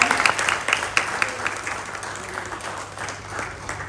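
An audience claps at a stage event for a VR temple experience, with sharp individual claps at first that settle into a softer, steadier patter as the applause gradually dies down over a low hum.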